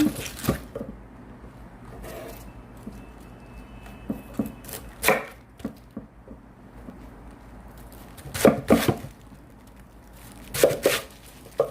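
Cabbage is chopped into small pieces with a knife for kimchi, giving scattered, irregular chopping thuds on a board, close and moderately loud, with quiet gaps between bursts.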